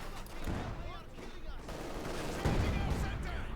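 Machine gun fire in the World War II strategy game Company of Heroes 2, a dense, fairly quiet clatter of shots and distant explosions running the whole time under a steady battle din.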